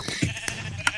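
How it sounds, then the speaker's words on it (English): Sheep bleating in the video game Minecraft, several short bleats across a second of mixed game noise, fairly close and clear. "Squirrel, people are taking our sheep."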